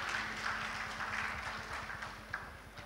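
Audience applause at an inauguration ceremony for an online approval facility, a faint, even patter of many hands clapping at a distance, continuing steadily with no voices.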